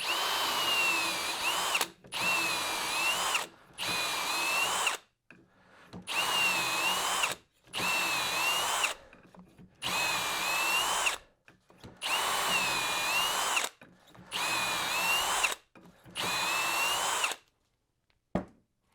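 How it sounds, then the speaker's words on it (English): A power drill whirs in about nine separate bursts, each lasting a second or two with short pauses between, loud and close, grinding into wood. "I'm going to drill 3 holes, and it's this simple"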